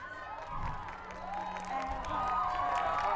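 Crowd at a live event in Blaenau Ffestiniog cheering and clapping, a swelling, moderately distant roar with scattered shouts and voices mixed in.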